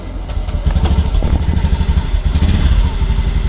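A motorcycle engine runs close and loud with an uneven, sputtering idle and rough pulsing beats during a manual ECU reset check, with no speech.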